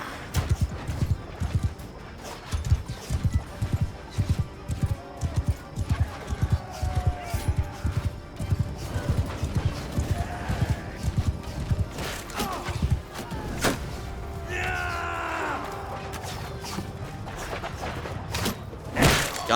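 Steady rhythmic hoofbeats of a galloping horse in the video game Mount & Blade II: Bannerlord, thudding repeatedly, with a brief whinny partway through and some voice in the background.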